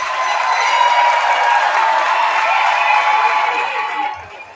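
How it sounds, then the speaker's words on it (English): Sustained audience applause for 5th grade students at an elementary school promotion ceremony, a dense crowd clapping evenly for about four seconds before fading quickly at the end. "Let's go ahead and give a round of applause to our 5th grade students."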